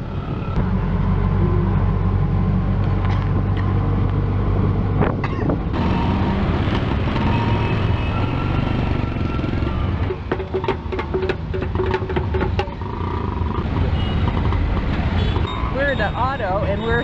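An auto rickshaw speeds through heavy traffic in India, its engine a constant loud rattling drone amid horns and street noise, with voices talking over it.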